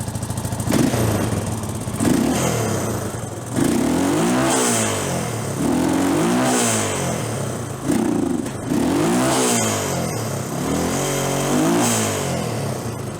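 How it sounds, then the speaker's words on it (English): A Honda TRX350TM Rancher ATV engine runs roughly and poorly, its idle surging and dipping in repeated uneven revs, loud and close throughout with no talk. "She's not carbureting real well."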